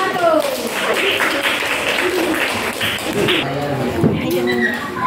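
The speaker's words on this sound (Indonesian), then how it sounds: "Tepuk tangan untuk kelompok 1" Classmates in a sixth-grade primary school classroom clap for a group that has just finished presenting, scattered uneven hand claps with chatter and children's voices mixed in throughout.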